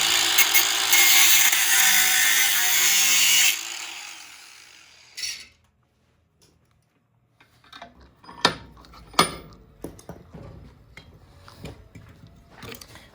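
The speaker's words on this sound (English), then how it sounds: "I'm using my angle grinder in the wrong direction." An angle grinder cuts through copper with a loud, harsh, steady whine for about three and a half seconds, then stops, followed by a brief burst and scattered metallic clinks and handling knocks.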